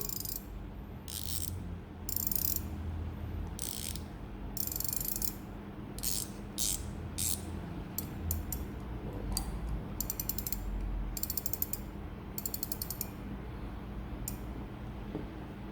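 A 2020 Shimano Twin Power 5000 XG high-speed spinning fishing reel gives off crisp ratcheting clicks in repeated bursts of varying length, close and distinct over a faint mechanical background.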